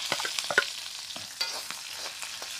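Onion, pepper and salted fish being stir-fried: short scraping stirs of a utensil over a soft frying crackle, close and fairly quiet, repeating irregularly.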